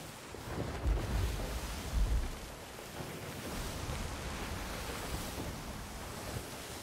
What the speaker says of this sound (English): Waves are getting kind of crazy here.